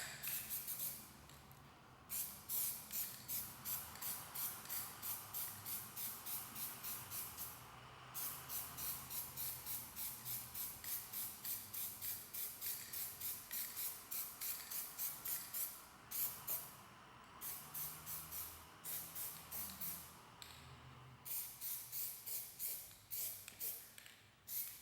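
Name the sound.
spraying a coat of chameleon Plasti Dip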